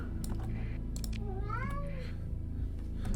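A cat meows once with a rising, wavering cry, close and clear over a steady background hum and scattered keyboard typing and clicks.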